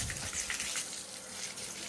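Cold water splashing and pouring over a cow being washed in a Pakistani village during hot weather: a continuous gushing stream, fairly close and steady, with no talking.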